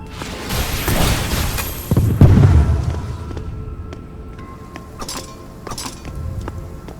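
A disintegration spell strikes a gunman in the dark fantasy game Graven: a glassy crackling burst builds to a heavy booming hit, then fades into scattered clinks and a low rumble.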